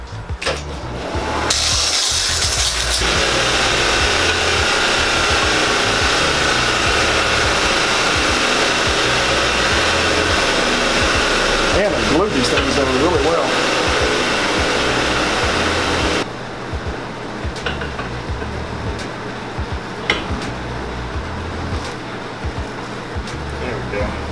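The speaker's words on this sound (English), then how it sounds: "so I'm gonna sand these flat" Power sanding of nail tips flat on the heel of a Santoni loafer during an orange sole replacement, a steady loud whirring grind running almost continuously, easing slightly toward the end.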